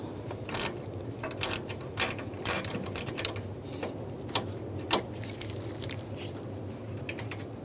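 Intermittent clicking and metallic rattling from a ratchet wrench loosening a nut on a radiator line of a 2011-2018 Ram 1500, irregular bursts of ratcheting and tool contact close by, with no speech.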